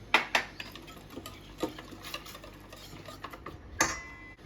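A spoon scrapes and clinks against a pan while soybean chunk curry with turmeric, chili, coriander powder and garam masala is stirred, giving irregular soft knocks and scrapes over a faint sizzle.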